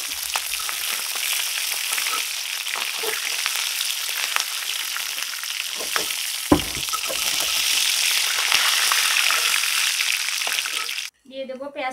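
Snakehead fish fry in hot oil with a loud, continuous close sizzle and crackle, broken by a few utensil clinks. A voice comes in briefly at the very end.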